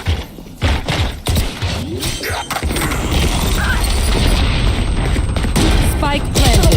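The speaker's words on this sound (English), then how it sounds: "Bomb grenade out." A grenade goes off in the Valorant video game during a tournament match, a sharp boom followed by crashing debris, with gunfire and game sounds around it and a commentator talking over the action.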